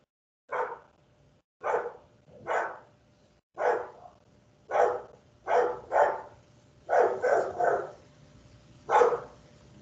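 Dogs bark in a lively indoor setting, about a dozen sharp barks in irregular bursts, some doubled in quick succession, near and fairly loud with no talk over them.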